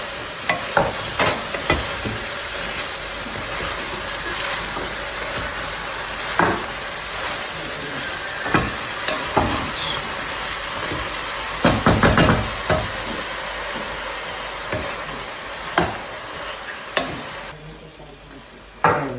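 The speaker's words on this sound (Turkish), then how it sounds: "İyice karıştıralım." Food being stirred in a hot pan on a home stove, a constant sizzle and hiss with occasional scraping knocks of the spoon against the pan, close, no talking.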